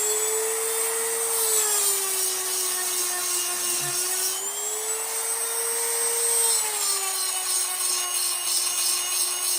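Dremel rotary tool sharpening a chainsaw chain, a steady high-pitched whine that dips slightly in pitch under load, with faint grinding rasp, close by and continuous, a brief spoken word near the start.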